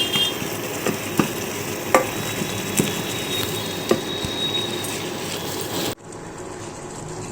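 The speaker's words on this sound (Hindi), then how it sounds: "तो मैगी मसाला भी इसमें आ गया। अच्छे से पूरा मिक्स करना है।" Maggi noodles tossed with masala in a pan give a steady frying hiss with scattered scrapes and clicks from stirring, running continuously until the sound cuts off near the end.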